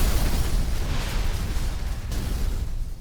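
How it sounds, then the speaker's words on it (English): Loud, continuous barrage of video game explosions and booms from Typing of the Dead: Overkill, a typing game reworked from a light gun shooter, rumbling densely for the whole stretch with no pauses. "If you think the dive lacked explosions, here you go."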